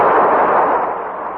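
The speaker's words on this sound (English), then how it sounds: "The explosion had created a sort of earthquake." Explosion sound effect in a radio drama, a loud, dense burst of roaring blast noise that decays over a second or so, alone with no voices.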